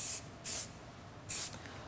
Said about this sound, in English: spraying a little bit of heat protectant